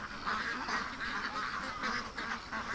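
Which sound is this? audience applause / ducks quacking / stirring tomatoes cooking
ducks quacking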